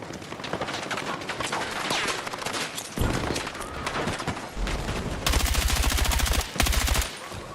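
Rapid video game gunfire rattles in dense bursts throughout, loud and close, with sustained automatic volleys and a heavier pulsing stretch near the end.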